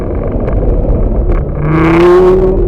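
Lamborghini accelerating out of a turn on a cone agility course: a loud, close engine note that builds into a rising rev as the throttle opens, with no talking.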